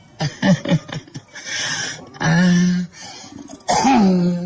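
A Sundanese storyteller voices a character's choking cough: a cluster of short, rough, close bursts, then strained, drawn-out voiced groans and gasps, loud and alone.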